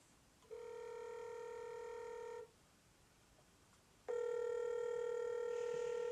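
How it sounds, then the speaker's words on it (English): Two long electronic ringing tones on a phone line, separated by a short pause, as a call connects; no voices. "We're going to call her right now."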